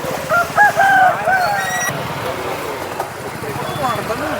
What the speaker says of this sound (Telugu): ఎనిమిది నెలలు వయసు కలిగినటువంటి పట్టాపుంజు ఇదైతే